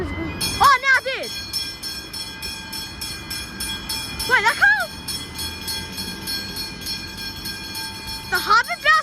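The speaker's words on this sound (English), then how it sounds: "I think I hear a train on. Coming." A train rolls through the Macaulay Road level crossing in North Melbourne, with loud wavering warning tones sounding in three bursts over a steady rumble of the passing carriages, while a person speaks briefly.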